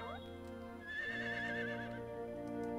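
A horse in the Harvest Moon farming game lets out a clear, wavering whinny that rises and trembles for about a second, set against steady game music.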